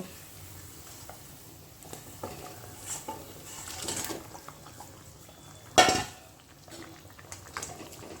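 Fish pieces dropped into a pan of boiling curry with potatoes, quiet bubbling and utensil clinks followed by one loud splashy clatter as they go in, no voices.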